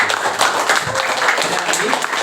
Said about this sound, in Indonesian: Jadi kita kasih tepuk tangan buat.